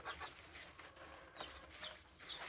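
Brown red game chickens cluck softly at a distance during morning chores, with faint scattered calls over a steady outdoor hiss.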